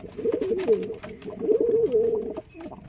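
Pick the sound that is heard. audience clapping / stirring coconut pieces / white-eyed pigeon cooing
white-eyed pigeon cooing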